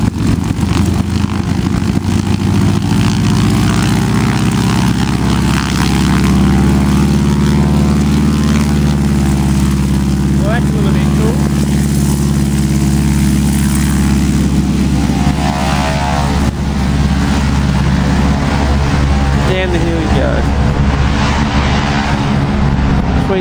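A propeller plane at a country strip powers up for takeoff, its engine droning loud and steady with a strong buzzing hum that holds unbroken for over twenty seconds.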